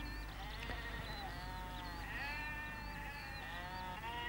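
Sheep bleat repeatedly on pasture land of the Isle of Eigg, several wavering calls overlapping at moderate distance over a steady low rumble of wind or background noise, with no talking.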